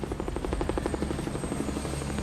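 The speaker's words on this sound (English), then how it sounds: "Only 3 to 4 helicopters at a time are allowed on the garage roof." A helicopter during a hospital evacuation, landing on a garage roof, thumps with a steady rapid rotor beat over a constant engine drone, loud and close throughout with no voices.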